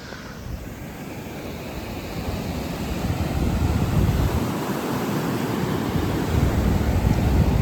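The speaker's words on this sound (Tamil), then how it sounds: "அந்த தண்ணி சவுண்டை கேளுங்க பீச் சவுண்டை கேளுங்க" Ocean waves rolling onto a Mangalore beach, a steady, broad roar of surf that swells slightly louder over several seconds, mixed with wind buffeting the microphone and no voices.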